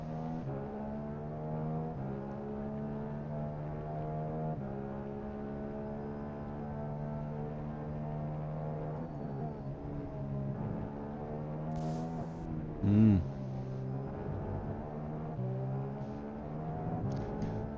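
F1 race cars in an online racing video game, a steady sustained engine drone with strong harmonic tones, shifting pitch as the cars accelerate, continuous and fairly loud with a brief bump partway through.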